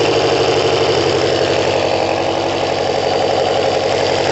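Kawasaki ZL600 motorcycle engine idling steadily while still cold, a loud continuous low rumble with an even pulsing beat throughout and no voices.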